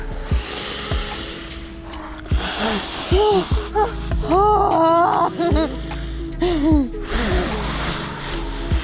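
Someone lowering into ice water during a winter swim in Samoëns gasps and pants in sharp, rapid breaths, the sounds rising into strained cries and trembling exhales, loud and close amid splashing noise.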